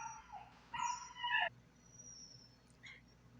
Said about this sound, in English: they have a lot of dogs